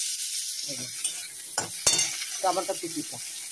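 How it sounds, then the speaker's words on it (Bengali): Chopped onion and tomato sizzle steadily in a hot pan while a spoon stirs and scrapes, with a few sharp clinks of utensil on metal over the continuous frying hiss. "এখানে দিয়ে দেবো পেঁয়াজ কুচি, এরপর আমি দিয়ে দেবো টমেটো কুচিটা।"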